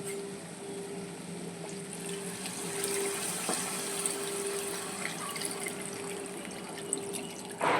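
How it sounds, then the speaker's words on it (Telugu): Water pours steadily into a pot of country chicken curry, a continuous hissing splash with a faint steady tone underneath and a brief clatter near the end, no speech. "ముక్క మునిగేంత వరకు వాటర్ పోసుకోవాలి"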